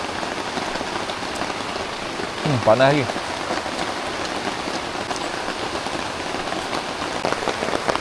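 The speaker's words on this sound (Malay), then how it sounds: "Oi, hujan tak berhenti guys." Steady heavy rain pours down throughout at a wild family campsite, with a short spoken phrase near the middle.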